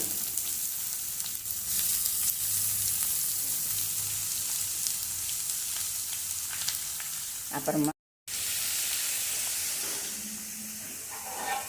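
Loud continuous sizzling and hissing from vegetables and tender coconut flower frying with salt in a hot pan, with occasional stirring scrapes, steady throughout apart from a brief dropout.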